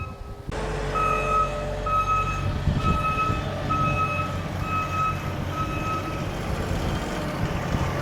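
A small Bobcat loader backing up on a house remodel site gives a steady series of evenly spaced reversing beeps over a loud, rumbling diesel engine, close by, with no talk.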